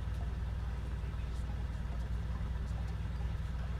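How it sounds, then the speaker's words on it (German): A steady, low-pitched car engine drone from the video game Big Ambitions idles and rumbles continuously at moderate volume, with a faint rough pulsing texture throughout; the engine sounds unhealthy. "Der Motor hört sich aber nicht so ganz gesund an."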